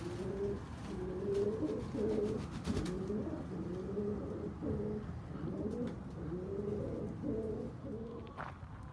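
Pigeons coo steadily and close by inside a freshly hosed-down homestead coop, their layered, rolling calls overlapping throughout with no pauses.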